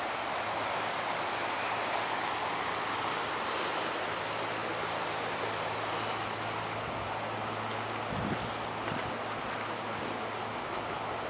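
Floodwater from Wissahickon Creek in Flourtown rushes steadily across a trail in a constant broad roar of flowing water, close and loud throughout, with no talking.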